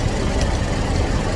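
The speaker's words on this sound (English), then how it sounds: "The LX Gardner engine is also used in the buses and trucks." A Gardner LX diesel engine, the type used in buses and trucks, idles at around 550 RPM at a vintage show in Scotland, giving a loud, steady, low rumble that fills the whole moment.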